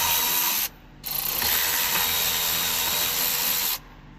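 A power tool whirs loudly for a short burst, pauses, then runs again for several seconds, driving out bolts from a trailer brake controller in a 2017 Ford F350, close and steady with no speech.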